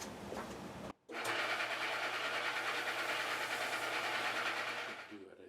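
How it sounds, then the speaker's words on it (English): A radius disc sander grinds a fret radius into a Fender Jazz Bass maple fingerboard, a loud, steady mechanical whir after a brief break, tapering off at the end. "I'm cutting that radius on the edge of the radius disc sander"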